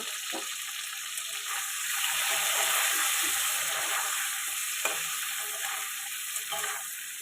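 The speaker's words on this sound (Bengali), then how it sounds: "একটু হলুদ দিয়ে ডিমগুলো আমি ভেজে নেব" Eggs fry in a pan with a little turmeric for a thin egg curry with ridge gourd, making a continuous close sizzle with occasional stirring scrapes and small pops.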